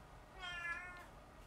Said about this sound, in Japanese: 猫です。